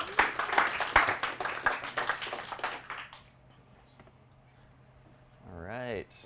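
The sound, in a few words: audience applause after a talk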